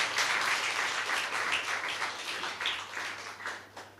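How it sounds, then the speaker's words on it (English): Students at a school speech competition clap for themselves, a steady, moderately loud patter of many hands over a low constant hum, slowly tapering off over a few seconds. "Clap for yourself."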